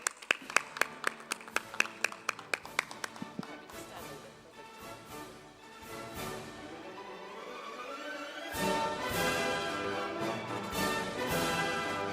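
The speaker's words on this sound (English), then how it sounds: "A big round of applause for Claudia" Applause at a plenary session stage as an award recipient walks up: a few distinct, sharp claps at first, fading into a soft lull, then swelling into fuller, denser clapping from a hall audience.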